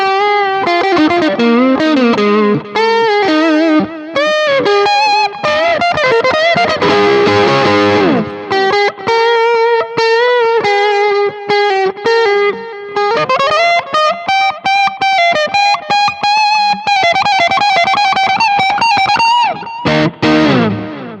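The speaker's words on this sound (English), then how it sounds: "let me roll down the tones just a little bit. And I'll do this guitar solo" A distorted electric guitar from a STRICH beginner kit plays a long, fast lead solo with bends and sustained notes, loud and upfront throughout.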